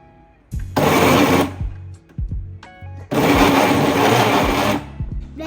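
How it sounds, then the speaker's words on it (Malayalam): A kitchen blender whirs loudly through chicken with garlic powder, salt and oregano in two strong bursts, the first about a second long and the second several seconds long, separated by clicks and quieter handling sounds. "ക്ലോസ് ചെയ്തിട്ട് ബ്ലെൻഡ് ചെയ്യാം."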